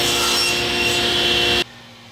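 A saw rasps steadily at close range, cutting off a wood plug against a stop, a continuous gritty cutting noise that stops abruptly near the end.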